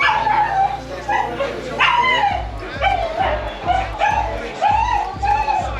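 Several dogs bark, yip and whimper in quick repeated bursts, loud and close, with a rhythmic low thumping underneath.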